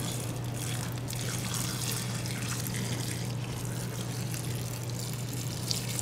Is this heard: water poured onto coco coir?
yes